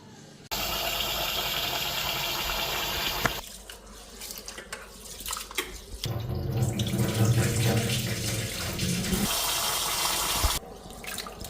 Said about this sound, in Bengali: চালটা ভালো করে ধুইলাম